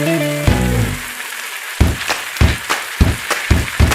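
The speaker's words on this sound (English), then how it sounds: "add the cubed egg whites and stir fry for another 1 to 2 minutes" Cubed egg whites stir-fried in a pan, heard as a series of sharp, close clacks and scrapes at an irregular pace, following a brief rumbling tone at the start.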